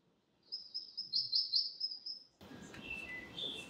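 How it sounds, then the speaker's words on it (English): A black-and-white warbler sings a high, thin, squeaky-wheel series of repeated notes, steady and fairly close, before the song cuts off into rustling background noise. "I call this the warbler that thinks it's a nuthatch."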